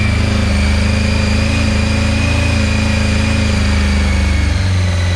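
A Honda CBR 600 F4 motorcycle engine, carbureted and just revived after a long standstill, idles steadily at around 2,500 rpm while warming up. The close, even engine hum runs throughout with no talk.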